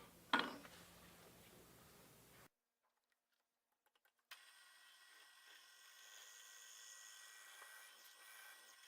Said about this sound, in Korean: 지금은 그냥 철공용 비트로 사용해서 뚫고 있어요